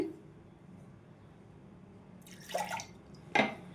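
Water splashes into a blender jar in two short pours for guava juice, close by, over a quiet low hum.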